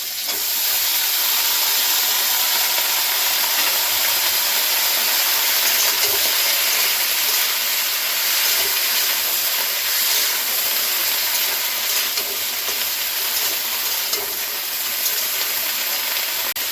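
Potatoes and gourd stems sizzle in a hot pan for a Bengali vegetable dish, a steady close, loud hiss of frying that holds evenly throughout with no talking.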